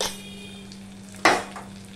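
Chili, cumin and coriander powder masala frying in a pan with a little water for a vegetarian papaya curry, a low steady sizzle with a sharp stirring scrape and clink partway through, close, no talk.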